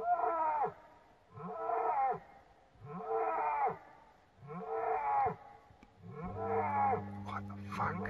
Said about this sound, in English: That's a cow, but what's happening to it?